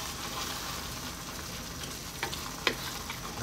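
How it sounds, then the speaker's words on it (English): Coconut milk poured into a sizzling prawn curry in a hot pan sets off a steady broadband frying hiss, with a few brief stirring clicks and spits near the end and no talk. "what we're gonna do is add some coconut milk"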